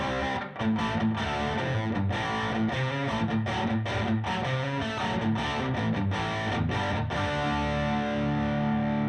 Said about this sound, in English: There's also a lead boost, overdrive boost for that channel, above and beyond the OTS.